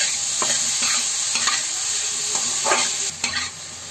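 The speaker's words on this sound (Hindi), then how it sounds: "या एप्पल को जो मैं ये कद्दूकस करके रखी हूँ ना उसको हम इसमें डाल करके भूनेंगे थोड़ी देर के लिए" Grated apple fries and is stirred in a pan as a first step for apple vermicelli kheer. A loud, continuous sizzle runs throughout, broken by repeated scraping stir strokes.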